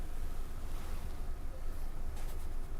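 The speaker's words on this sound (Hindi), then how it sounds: "यहाँ पे जो तेज हवाएं चल रही है और बारिश भी हो रही है" Strong wind during a cyclone's landfall on the Gujarat coast roars steadily into the microphone, a dense, unbroken rushing and buffeting noise with no pauses.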